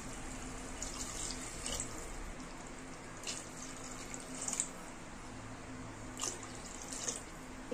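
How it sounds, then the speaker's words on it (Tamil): Water is poured into a cooking pot for one-pot rice, a faint, steady trickle and splash with a few louder drips and clinks over soft background hum, no speech. "இப்போ இதுல தண்ணி வந்து அளந்து சேர்த்துக்கலாம்."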